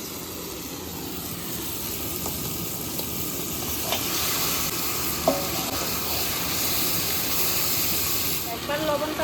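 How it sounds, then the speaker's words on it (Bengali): Meat frying with spiced masala in a wok, a steady sizzle and hiss with occasional stirring scrapes and clicks, close and continuous throughout. "মশলা কষানো হয়ে গেছে এবার মাংসটা দিয়ে দেবো"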